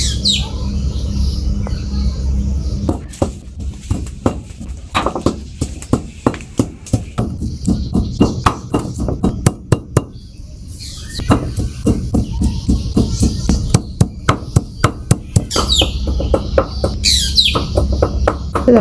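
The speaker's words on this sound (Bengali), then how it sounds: "পাখিটা চিৎকার করতেছে" A bird screams outdoors in a garden near a lemon tree, with loud repeated sharp calls and clicking bursts in irregular runs, plus a few higher rising squawks standing out over the background.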